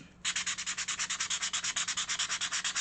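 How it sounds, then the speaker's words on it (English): Thin wood being sanded smooth with a power sander, a steady close rasping hum pulsing in quick regular strokes for nearly three seconds after a brief quiet start, with no talk. "So my goal is just to smooth the wood out."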